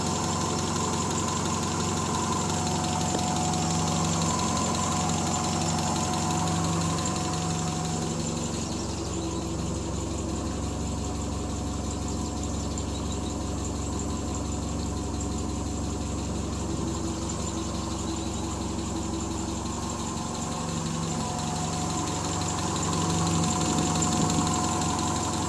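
A Triumph Spitfire engine idles steadily after months without running, a constant low hum with a light ticking lifter clatter running underneath, heard close and unchanging for the whole stretch.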